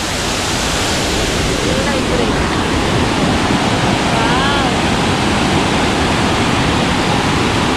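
Waterfall water rushing down a mountainside, heard as a loud, continuous broadband roar with no breaks, steady and close throughout.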